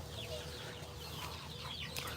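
Native village chickens cluck faintly in the background, with scattered soft clucks and calls over low ambient noise.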